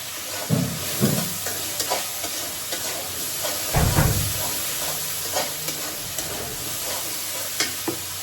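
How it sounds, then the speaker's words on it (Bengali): Cauliflower, eggplant and potato stirred and fried in spices in a pan, a steady close sizzle with intermittent scraping stirs and occasional louder clanks. "এখন দিয়ে দেবো তরকারি, ফুলকপি, বেগুন, আলু।"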